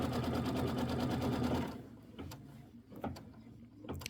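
A sewing machine runs a quilting stitch in a fast, even mechanical rattle for about a second and a half, then stops, leaving quiet clicks and handling sounds.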